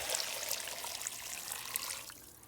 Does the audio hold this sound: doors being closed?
no